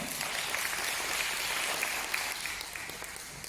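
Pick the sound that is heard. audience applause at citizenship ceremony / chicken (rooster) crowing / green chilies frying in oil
audience applause at citizenship ceremony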